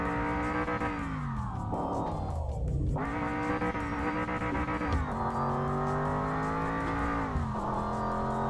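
Car engine in the game Mon Bazou driving over a rough track, a steady droning hum with pitch dips and rises as it bounces and revs, continuous and fairly loud with no talking.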